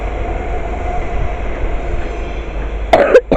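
A Class 345 electric train pulls out of Stratford station in London, giving a steady low rumble of wheels and traction that stays close and continuous before a brief sharper burst of noise near the end.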